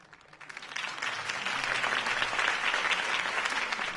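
A crowd bursts into sustained applause at a political campaign rally in the Batman: The Telltale Series video game, the clapping swelling within the first second and holding steady and loud throughout.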